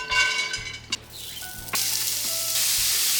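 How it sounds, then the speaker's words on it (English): Sausage browning in a frying pan, sizzling steadily with a few scraping stirs, getting louder and brighter toward the end, close up with no talking. "we are done browning our sausage"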